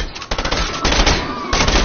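Rapid bursts of automatic gunfire from an online shooter video game rattle loudly and close, in quick stuttering volleys with a brief gap between strings of shots.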